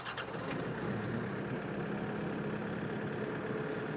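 A Kioti RX6620 powershuttle tractor with loader and backhoe idles steadily after a brief start, its low diesel rumble continuous and close for the whole stretch.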